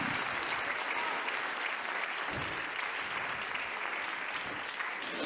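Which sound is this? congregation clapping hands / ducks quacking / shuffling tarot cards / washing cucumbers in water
congregation clapping hands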